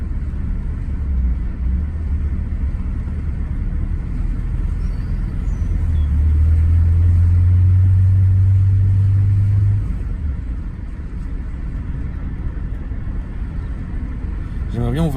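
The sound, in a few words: Rolls-Royce Silver Shadow engine while driving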